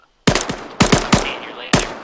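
A .50 cal machine gun mounted on a Humvee fires in Arma 3, four short loud bursts of heavy shots cracking close by with brief gaps and a ringing tail between them.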